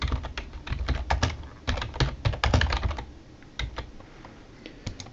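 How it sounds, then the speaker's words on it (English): Fingers type a product name on a computer keyboard, fast bursts of close, crisp key clicks that slow to a few sparse taps near the end, with no speech. "type in the name."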